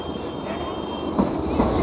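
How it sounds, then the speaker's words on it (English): A tram rolls past along a seaside promenade during the illuminations, a steady low rumble with a couple of soft clunks under broad outdoor noise and a faint high whine. "let the tram go by."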